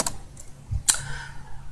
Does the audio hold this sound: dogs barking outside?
no